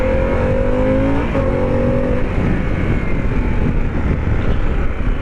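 A Harley-Davidson Pan America motorcycle engine pulling in second gear, a loud, steady drone with a rising tone in the first two seconds, under heavy wind rush.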